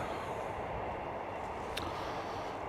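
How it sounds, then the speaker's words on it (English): Steady broadband rumble of a train rolling past at a distance, continuous and even throughout with no voices. "And there's the train going back up."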